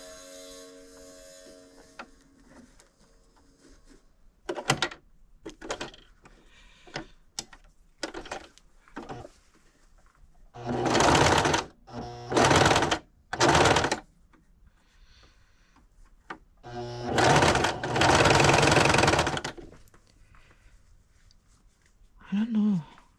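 Sewing machine stitching bands of fraying silk straps being shortened, running in several loud bursts of a few seconds each with quiet handling and pauses between them.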